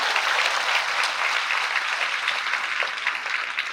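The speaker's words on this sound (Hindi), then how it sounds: "हम जोर से ताली बजाएं उसके लिए एक बार।" Congregation clapping at an annual feast day celebration at Ishgarh Grotto, a dense, even burst of applause that holds steady at a moderate level throughout.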